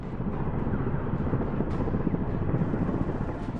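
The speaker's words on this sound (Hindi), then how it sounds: "फिर हेलीकॉप्टर वीडियो से गायब हो जाता है, लेकिन रोटर की आवाज आ रही है।" An Mi-17 helicopter's rotor drones loud and continuous in a wind-buffeted outdoor recording, a rough low roar with no distinct blade beat and no voices.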